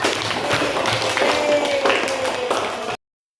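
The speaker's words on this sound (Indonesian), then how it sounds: "Tepuk tangan untuk kita semua" Classroom of pupils clapping their hands together, a busy cluster of overlapping claps with some taps and faint voices mixed in, fairly close, ending abruptly.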